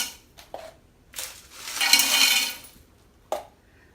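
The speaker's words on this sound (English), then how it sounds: "I'm going to add some ice." Ice cubes tumbling into a pitcher for cucumber lemonade, a clattering pour of clinks in the middle with a couple of sharp single knocks before and after, close and alone in a quiet room.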